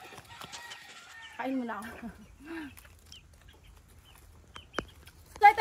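Caged chickens in battery cages set beneath banana trees give out soft clucks and a few short calls, fairly close, with someone talking over them at the start and a sharp knock near the end.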